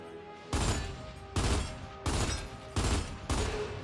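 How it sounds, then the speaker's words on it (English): Bursts of rifle gunfire shooting at bottles in the video game Gears of War 2 come as four loud, sustained volleys separated by short pauses, with no voices over them. "Marcus, we're gonna shoot bottles."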